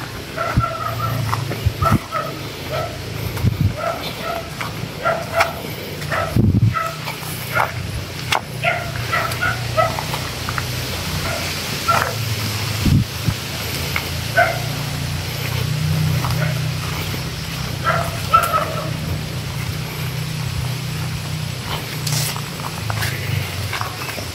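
A dog barks and yips repeatedly at a house, short sharp calls scattered through a steady low rumble of engine or road noise, moderately close.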